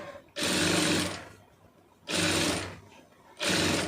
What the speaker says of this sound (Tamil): தைக்கும்போது இழுக்காமல் அப்படியே அடிங்க